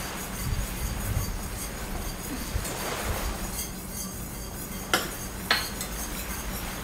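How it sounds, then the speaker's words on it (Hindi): Blackcurrant ice cream mixture is whisked as cornflour slurry is added bit by bit, giving soft continuous scraping and stirring against a pot, with two sharper metallic clinks near the end. "लगातार विस्क करते हुए हम कॉर्नफ्लोर को डालेंगे, थोड़ा थोड़ा करके डालेंगे।"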